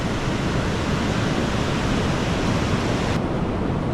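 Morning ocean surf at Vayari beach in Malvan, Konkan: a loud, steady broadband wash of breaking waves with some wind rumble, filling the whole stretch without any voices.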